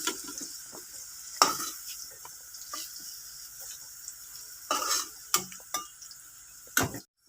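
Jackfruit pieces frying in oil in a wok give a steady soft sizzle, broken by repeated scraping stirs of a spatula against the pan, close and fairly quiet.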